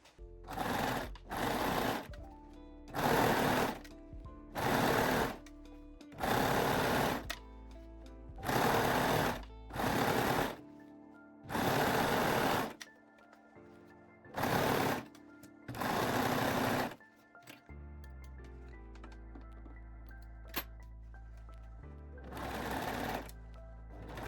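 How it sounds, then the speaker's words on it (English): A sewing machine runs a zigzag stitch on elastic for a sporty bra, in repeated loud bursts of rapid whirring separated by short pauses, close to the microphone, with background music underneath. "sew the elastic using zigzag, 3-step zigzag or your cover stitch machine"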